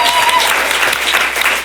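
Loud, dense applause from a studio audience at an Estonian comedy quiz show, greeting the participants; steady clapping fills the whole stretch with a faint voice underneath.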